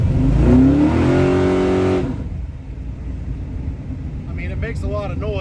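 A 555ci big block in a '55 Chevy revs hard and loud with a rising engine tone for about two seconds, then drops to a rough idle rumble while a voice speaks briefly near the end.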